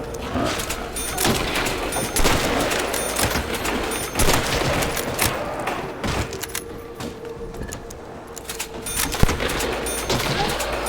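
Dense, continuous gunfire from a Nazi Zombies video game as zombies are shot, rapid repeated bursts with sharp booms throughout, loud and close with no talking.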